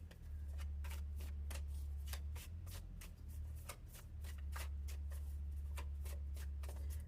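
Shadow Oracle cards are shuffled by hand in a quiet room, a long run of crisp riffling flicks and soft slaps in uneven bursts over a low steady hum.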